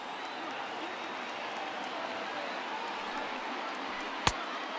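Stadium crowd in MLB The Show 20, a baseball video game, roaring steadily as fans rise to their feet, a dense continuous wash of cheering with one sharp knock near the end.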